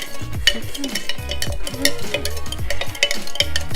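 A utensil mixes a sauce for a simple Asian cucumber salad, making quick, rhythmic stirring and scraping strokes in a bowl, close and steady throughout without any talking.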